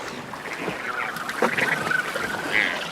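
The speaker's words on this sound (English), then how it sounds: "there's mobs of the birds I've come to see, these glorious albatrosses" Wandering albatrosses calling from a crowded colony, a scatter of honking, braying cries near and far over steady wind.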